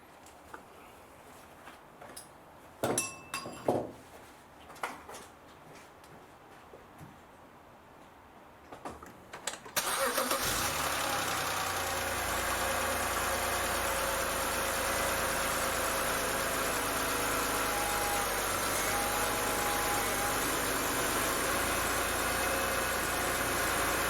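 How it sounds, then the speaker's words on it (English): Quiet clicks and rustling, then the engine of a 2006 BMW X3 2.5Si (E83) cranks and catches, settling into a steady, loud idle hum that runs on without change. "Now I'm gonna get the car started."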